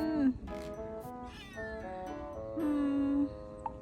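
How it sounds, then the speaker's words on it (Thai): A small kitten meows repeatedly up close, calling for its mother, in snowy Morioka, Iwate, Japan: several high thin cries with short gaps, the last one drawn out longer. "นางเหนียวเรียกแม่"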